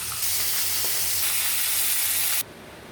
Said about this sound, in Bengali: মাছটা আমি হালকা ভেজে নিচ্ছি